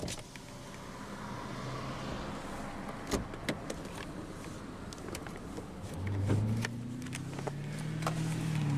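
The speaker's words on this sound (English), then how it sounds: "The driver's window is automatic down." A 2016 Hyundai Accent SE hatchback's automatic driver's power window motor hums steadily as the window glides down, with a few faint clicks earlier and low engine idle underneath.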